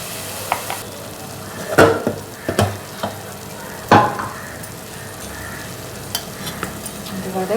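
Onion masala sizzles in a pan, with a constant frying hiss and several loud, uneven clanks and scrapes as a spoon stirs it, nearby and clear, with no talk over it.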